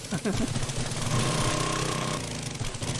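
A powerful drill grinds into earth in the game 7 Days to Die, a loud, steady rattling roar with a rapid pulsing beat that runs the full length, with a voice faintly mixed under it.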